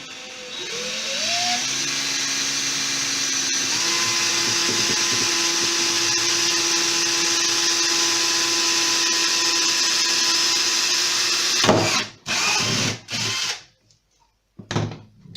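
A power drill bores a hole through flexible material for a switch in an emergency power supply build, a steady whining drone lasting about twelve seconds before it cuts off into a few short bursts and handling noises.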